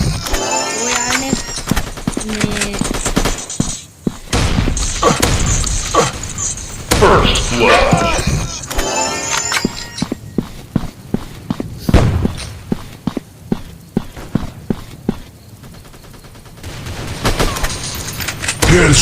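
Rapid bursts of gunfire in the Stick Ops shooter game crackle loudly in repeated volleys with short pauses, mixed with other game effects and someone speaking over them.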